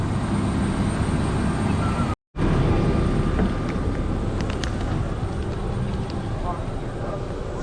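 Airliner engines drone steadily through the cabin during a flight to San Francisco Airport, a loud continuous broadband roar with a brief dropout near the start and faint ticks above it.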